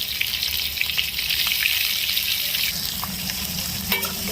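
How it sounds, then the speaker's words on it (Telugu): Cabbage and green chillies frying in oil in a vegetable fry, a dense steady sizzle with light stirring and a faint low hum beneath, close and even throughout, no one speaking. "క్యాబేజ్ని మంచిగా ఆయిల్లో ఫ్రై చేస్తాం"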